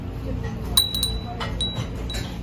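A clear Fenton glass bell in a Salvation Army thrift store gives a few short, bright, high rings, each a quick ping with a light ringing tail, spaced across the moment over a steady background hum of the shop.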